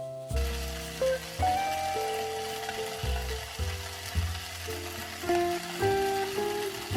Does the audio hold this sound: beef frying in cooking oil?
yes